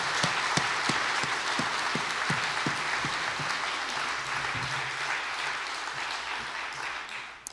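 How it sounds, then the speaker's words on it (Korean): A church congregation at a revival service applauds loudly, many hands clapping together in a dense burst that begins with a few strong rhythmic claps and then gradually fades. "힘찬 박수로 맞아주시기 바랍니다."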